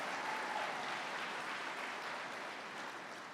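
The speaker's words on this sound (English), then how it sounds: "So big round of applause for that." Faint, steady applause from a crowd at a political rally, continuous and distant-sounding throughout, with no voices over it.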